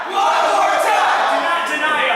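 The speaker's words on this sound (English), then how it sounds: "The crowd wants it again." A wrestling event crowd roars and cheers continuously and loudly, a dense wash of voices with a few higher shouts rising above it.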